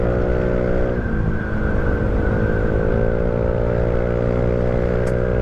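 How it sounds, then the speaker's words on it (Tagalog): A motorcycle engine running after a marsh gas treatment idles and revs close by, a steady mechanical hum with a brief rise in pitch early on and light clattering underneath. "lumakas yung makina natin, oh."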